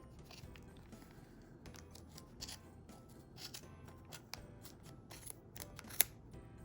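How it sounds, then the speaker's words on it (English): Small Fiskars scissors snip through crocheted yarn in a run of quick, close, crisp cuts, irregularly spaced, with one louder snap near the end. "The little scissors struggle just a touch, but Fiskars are good and sharp, so I know it will do it."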